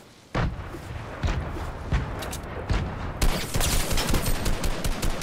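Rapid bursts of gunfire from a Fortnite match, several volleys of shots in close succession with sharp onsets, loud and continuous, no talk over them.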